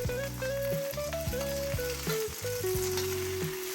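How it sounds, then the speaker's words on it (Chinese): Bok choy leaves stir-fry in a hot wok, with a steady, moderately loud oil sizzle and rhythmic tossing scrapes throughout, no voices. "翻炒时要均匀，别让叶子闷在锅底，否则容易变黄发黑。"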